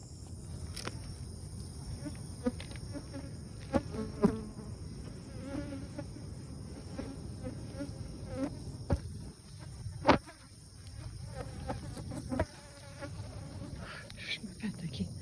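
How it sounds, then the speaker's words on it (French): Flies buzz continuously close to the microphone at a boat renovation, droning in and out, with a few brief knocks and rustles. "Les mouches."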